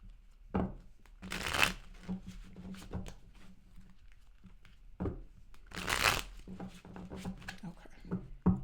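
Tarot cards being shuffled in two bursts of papery riffling, the second louder, with softer handling noises between and faint talk in the background.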